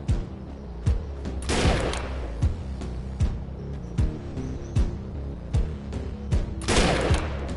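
Repeated gunshots from the video game Defiance 2050 crack out in an uneven string, with two heavier bursts of fusillade; the shots are loud and close, and no voices are heard.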